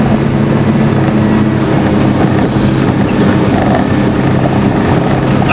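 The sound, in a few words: Polaris Ranger Northstar UTV driving in low gear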